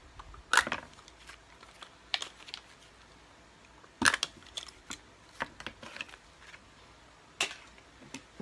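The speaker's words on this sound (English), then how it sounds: "I'm going to pop off the caps." Plastic caps are popped off a Kirby Sentria G10 vacuum cleaner during disassembly: three sharp, close snaps stand out, with light clicks and handling noises between them.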